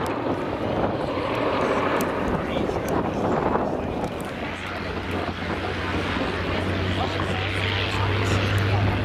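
A vintage propeller aircraft flies at the Duxford Battle of Britain airshow with a steady, broad engine drone and wind buffeting, under continuous commentary over the public address.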